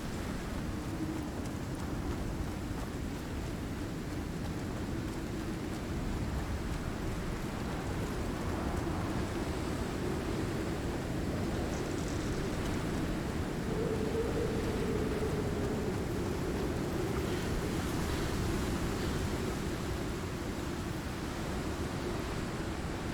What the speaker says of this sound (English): Apologize for the loud storm noise.